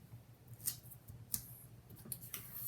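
Tape pulled open from a roll, a few faint, brief crackling rips spaced irregularly in a quiet room.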